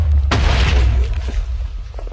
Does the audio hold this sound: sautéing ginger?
no